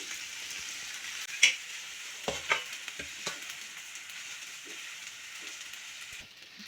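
Sabudana and peanut mixture being stirred into a frying seasoned palya for sabudana kichadi, a soft steady sizzle with a few scraping stirs of the spoon against the pan, fairly quiet and close, no talking.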